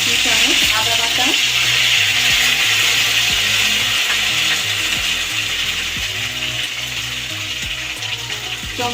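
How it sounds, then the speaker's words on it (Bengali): Bay leaf and ginger paste sizzle and crackle in hot oil in a kadai over medium gas flame, a steady loud frying hiss with scattered pops and stirring clatter throughout. "কড়াই তেল গরম হয়ে গেছে, এবার আমি একটু তেজপাতা দিয়ে দিলাম এর মধ্যে।"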